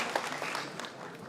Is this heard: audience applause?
yes